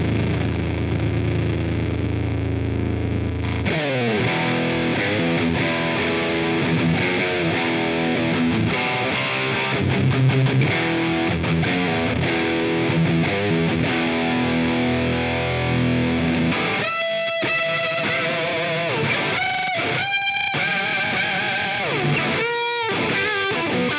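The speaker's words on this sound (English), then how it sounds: "this is one thick distortion unit, so let's see how this will fit this PV 5150 tone" Electric guitar through a thick distortion setting on a Line 6 POD Go, dialed toward a Peavey 5150 tone, plays sustained chugging chords and riffs, loud and continuous, with sharper staccato bursts toward the end.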